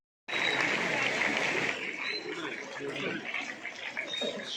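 Audience applause at a children's welfare and special services department prize-giving ceremony, a dense, steady burst of clapping that starts abruptly and continues throughout, with a few voices mixed in.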